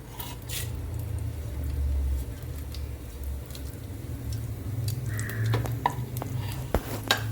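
Whole spices (bay leaf, cinnamon, black pepper, cloves, black cardamom and cumin) sautéed in a pan for a pulao, with a steady low stirring and light sizzle and occasional soft clinks of a utensil against the pan.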